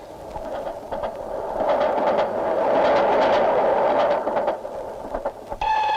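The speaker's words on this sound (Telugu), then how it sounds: "అయ్యో, రైలు వచ్చేస్తుంది" A train pulls into a railway station, its rumbling roar building and then easing off over several seconds, loud and close, with clicking wheel noise and a horn-like tone at the end.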